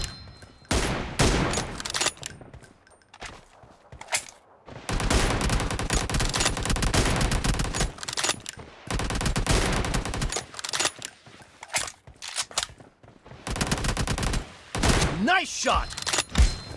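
Rapid automatic gunfire from AKM and Groza rifles in PUBG Mobile team deathmatch, loud dense bursts broken by short pauses, with a voice speaking briefly near the end.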